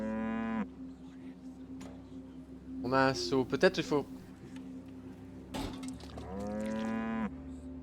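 In the video game Riddlewood Manor, a cow lets out drawn-out moos near the start and end, with a steady tonal hum behind them, while someone speaks French in between.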